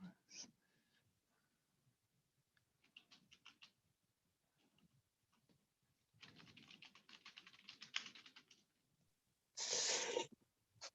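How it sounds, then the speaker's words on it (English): Someone types on a computer keyboard in scattered bursts of soft clicking, with a longer run of rapid keystrokes and a louder short clatter near the end, faint and close in a quiet room. "I'm typing that."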